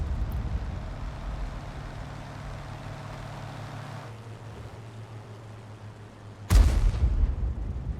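Tank gun shot in an online tank battle game, a single loud sharp blast near the end, over a low rumbling engine drone.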